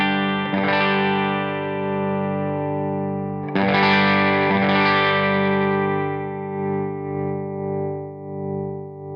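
Overdriven electric guitar through an amp, with two strummed chords ringing out long and fading slowly, gritty and full.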